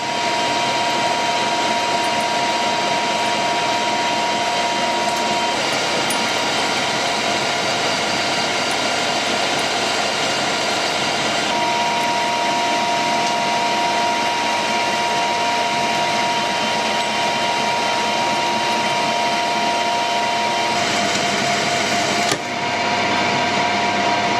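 A metal lathe turns a tractor drawbar pin, giving a steady, loud, continuous machine drone with a fixed tonal whine and cutting noise that runs almost unbroken, close to the listener, with no talk.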